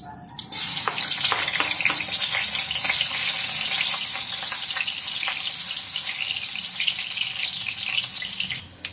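Sliced ginger hisses steadily in hot cooking oil, a loud, continuous sizzle that sets in after a short quiet moment and holds with small crackling spikes throughout, close up with no voices.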